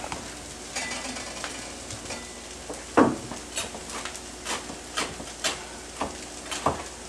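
Bacon sizzling in a tablespoon of butter in a pan, a steady hiss under a run of sharp clinks and scrapes as the strips are shifted and stacked, one louder clack near the middle.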